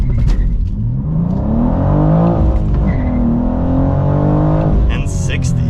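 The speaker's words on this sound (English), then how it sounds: "So with everything in the fun mode, let's do a quick launch control." A 2023 BMW M2 launches hard from a standstill under launch control, its engine roaring loud and close as it revs and climbs steadily through the gears for several seconds with no pause.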